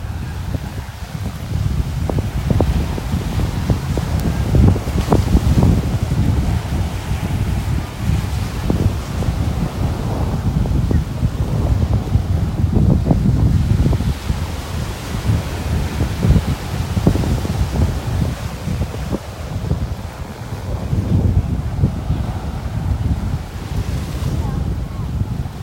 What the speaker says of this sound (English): The wind just totally blew the camera around here on the stabilizer. It's really picking up.